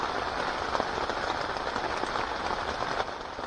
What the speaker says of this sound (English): Can you hear the rain outside?